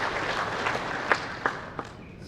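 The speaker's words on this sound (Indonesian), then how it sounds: "Kita tepuk tangan untuk kita semua." Audience members clap at a stunting reconciliation meeting led by a deputy governor, a soft, scattered applause with a few sharper individual claps standing out, fairly distant and brief.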